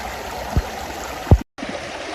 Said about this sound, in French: Donc voilà les jolies bulles.